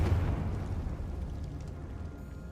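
Fiery Confringo spell blast in the Hogwarts Legacy video game, a deep rumbling explosion that booms at the start and then rolls off into a fading low roar.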